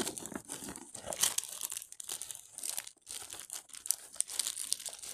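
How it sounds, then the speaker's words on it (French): Someone fights with the zipper on a small black case, making a busy run of rustling, crinkling and scraping noises, close up and uneven, with no speech. "Je suis en train de m'énerver sur la fermeture éclair."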